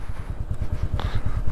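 Royal Enfield Meteor 350 motorcycle engine idling up close with a steady low, rhythmic thumping pulse, plus a brief mechanical clack partway through.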